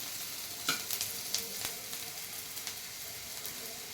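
Onion fries in a pan for homemade Maggi noodles. A soft, steady sizzle is joined by occasional light scrapes and clinks of stirring, close and fairly quiet, with no voices.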